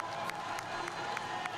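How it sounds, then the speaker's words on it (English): Russian and Swedish supporters cheer at the finish line of a women's 15km standing cross-country ski race at the Sochi 2014 Paralympics, a steady distant crowd roar with scattered claps, under a commentator's voice. "Russian and Swedish supporters cheering her home"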